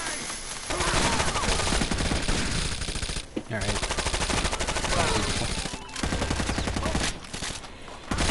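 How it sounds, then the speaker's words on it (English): Rapid automatic gunfire from the video game Rainbow Six Vegas 2 in co-op play, loud and dense, with sustained bursts broken by a few short pauses. "I can't shoot through railings. Bullets do not go through railings."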